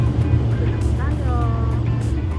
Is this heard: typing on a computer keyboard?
no